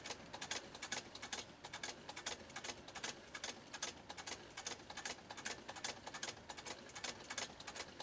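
A 1922 Singer 99K hand-crank sewing machine stitches through leather with a standard needle, giving a fast, steady run of sharp mechanical clacks and ticks at close range, with no talking over it.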